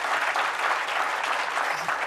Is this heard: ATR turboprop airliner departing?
no